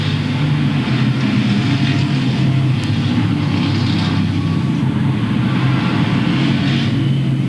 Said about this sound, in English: Dub Tindall in the number 64 goes into the number 1 position as they race back into turns 1 and 2